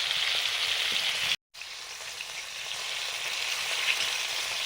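Fish sizzles steadily in hot oil, a dense, even crackle that briefly cuts out and then resumes, with no talking over it.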